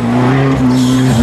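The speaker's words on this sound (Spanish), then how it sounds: "Cecilio Toribio en el cruiser negro y José en el Suzuki" Four-cylinder class race cars, a black cruiser and a Suzuki, roar past loudly and close in a brief, steady engine howl that dips in pitch at the end, with a hint of tire squeal.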